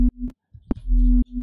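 Undistorted sine wave with its harmonic series from the Vital software synth, played as clean sustained tones in separate bursts with short silent gaps, a steady pitched hum and no voice.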